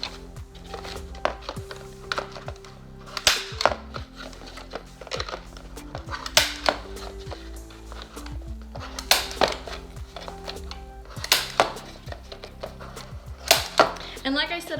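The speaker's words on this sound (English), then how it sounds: "I'm going to continue to staple all the way around" A hand stapler punching through paper plates, making a repeated series of sharp clacks at uneven intervals, fairly close, with faint background noise and a little quiet talk between staples.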